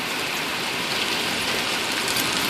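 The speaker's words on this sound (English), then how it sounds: "It's raining!" Steady outdoor rain heavy enough to flood the ground, a dense, even hiss of drops spattering on surfaces that stays loud and close for the whole stretch with no voices.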